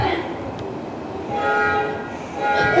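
A train sound effect in a stage production of The Music Man plays as a rumbling rail clatter with horn-like tones swelling midway, heard under actors speaking onstage.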